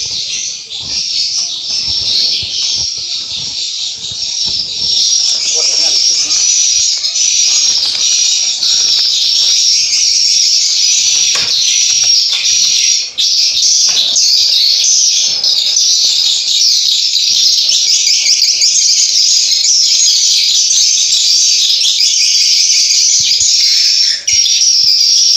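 Swiftlets calling inside a swiftlet nesting house, a loud, dense, continuous chorus of high chirps filling the enclosed space for the whole stretch, with no talk over it.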